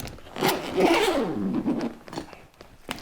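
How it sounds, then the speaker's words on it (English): The zipper on a tenor saxophone case is drawn open in one continuous rasping pull lasting a couple of seconds, close by, followed by faint handling clicks. "if you have zippers, unzip the case"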